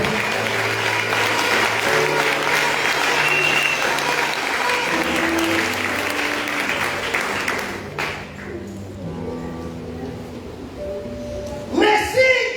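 A church congregation in Moanda applauds during a night vigil service. The clapping is dense and sustained, mixed with voices and musical tones, thins out after about eight seconds and swells briefly near the end.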